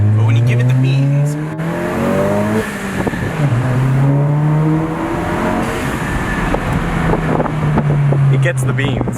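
A VW Golf GTI MK7 fitted with an AWE exhaust accelerates hard, its loud engine note rising through several gear changes with brief dips between shifts, close by inside the car, with people talking over it.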